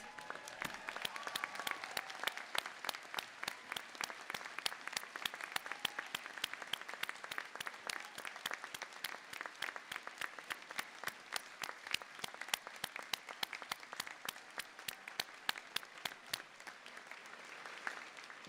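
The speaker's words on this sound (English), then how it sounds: "give yourselves a massive round of applause for your achievement" Sustained applause from a large audience, steady dense clapping filling the room without a break, loud and continuous for the whole stretch.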